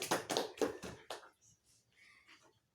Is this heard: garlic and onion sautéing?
no